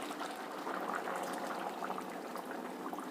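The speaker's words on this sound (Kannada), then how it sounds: "ಇನ್ನೂ ಸ್ವಲ್ಪ ನೀರು ಆ್ಯಡ್ ಮಾಡ್ತೀನಿ." Water is poured into a pot of simmering moong dal khichdi, giving a soft, continuous liquid bubbling and gurgling, close and fairly quiet, with no talk.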